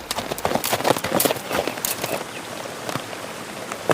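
Hoofbeats of a horse named Tejas carrying its rider, a clip-clop sound effect in a Hindi audio drama, with a rapid burst of hoof strikes early on that thins into scattered, quieter steps.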